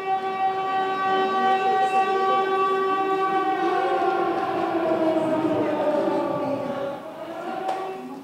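A loud, sustained wailing newspaper siren of El Diario de Costa Rica with rich harmonic tones holds steady, then slowly fades slightly toward the end.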